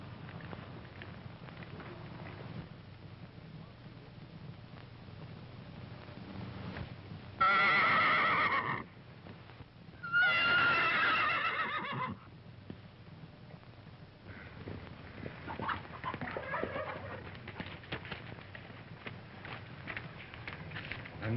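A horse neighs loudly twice, a few seconds apart, amid faint background noise and occasional hoof sounds.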